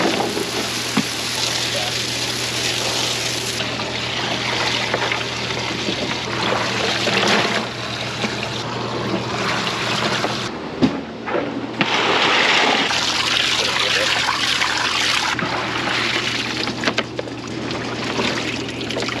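Water runs and splashes steadily while harvested beans are washed outdoors, a continuous rushing pour with a low hum underneath and brief breaks in the flow.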